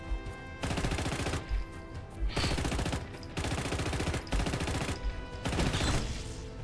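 Uzi submachine gun fire in Just Cause 3, loud and close in several sustained rapid bursts separated by short pauses, with no talking.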